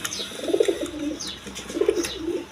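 A pair of pigeons, a seven-eye male and a black-eye female, coo in two low rolling phrases, close and fairly quiet.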